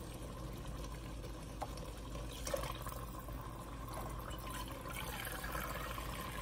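Organic beef bone broth being poured into a pot of keto chili, a steady liquid splashing and trickling at close range that continues without a break, with no voices.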